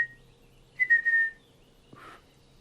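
A person attempting to whistle produces a brief thin tone, then a slightly longer wavering one, and a breathy puff, all fairly close in a quiet room.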